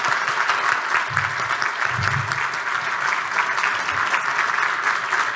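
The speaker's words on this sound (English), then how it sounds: "Give them a round of applause." An audience at a fundraiser breakfast claps steadily in dense, sustained applause that fills the room from start to finish.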